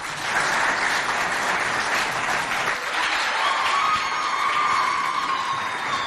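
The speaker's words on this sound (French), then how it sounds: "On les applaudit bien fort, s'il vous plaît." A crowd at a quiz show between secondary schools CEG de Koutou and CEG de Doumbeu in Moundou gives the students a long, full round of applause, many hands clapping loudly and steadily with no pause.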